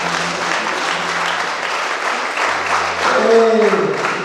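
Guests at a church wedding applaud steadily for several seconds, a dense crowd clapping that swells slightly near the end, with a voice faintly audible underneath.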